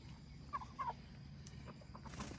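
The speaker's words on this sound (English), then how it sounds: "And then chickens. Hi chickens, good morning." A few short clucking calls from chickens at moderate distance, spread over a couple of seconds against a low outdoor rumble.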